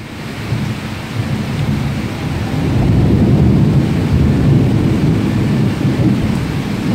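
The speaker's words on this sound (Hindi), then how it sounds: "आप आवाज़ सुन रहे हैं कि इसकी कड़क किस कदर तेज़ है।" Deep rolling thunder builds over steady heavy rain in a Karachi storm, loud and continuous, peaking midway without any voices.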